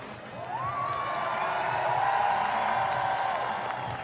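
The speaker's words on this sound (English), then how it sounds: "This is the crowd" A packed stadium crowd at the European Championships sport climbing in Munich cheers and whoops in a sustained, loud roar, with one rising shout standing out above the mass of voices.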